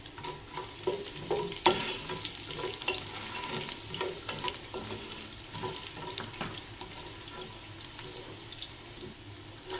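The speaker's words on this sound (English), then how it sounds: "Stir fry all these for 2 minutes. Add in 7 to 8 finely chopped garlic cloves." Finely chopped garlic cloves stir-fried with chana dal lentils in a pan, a quiet continuous sizzle broken by frequent scraping and clicking strokes of a spatula stirring.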